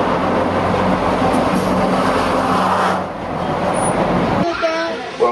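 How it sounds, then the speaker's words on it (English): A Union Pacific model railroad train runs past on a club layout, with a steady rolling rumble and rattle that stays close and loud, then eases off near the end. "Union Pacific train you see coming right in front of you"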